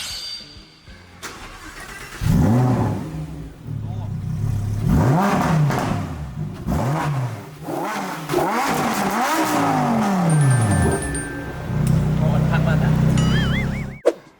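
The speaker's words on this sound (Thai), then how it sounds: "เดี๋ยวจะพาไปฟังเสียงเครื่องนะครับ" Lamborghini STO supercar engine starting and revving, a series of sharp throttle blips rising and falling close by, then a steadier high idle before cutting off, with someone talking over parts of it.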